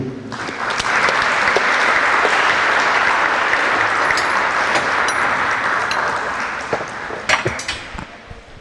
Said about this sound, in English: Please join me in a round of applause for Coach Joe